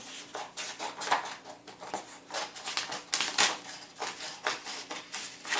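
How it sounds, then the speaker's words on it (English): Scissors snip through a sheet of paper consignment tags, a series of close, crisp cuts and rustles in an uneven rhythm with no talking. "I cut those 3 tags out and kind of leave them in their order"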